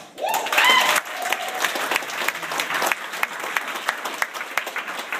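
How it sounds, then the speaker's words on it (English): Wedding guests at a celebration break into loud applause, a dense burst of clapping that swells early, then settles into steady, slightly thinner clapping with a few whoops over the top. "round of applause and appreciate the Sane Divate families who has been thus far a wonderful celebratio"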